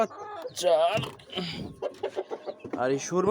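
An Aseel rooster clucks and calls close by in several short, throaty bursts with a brief pause between them.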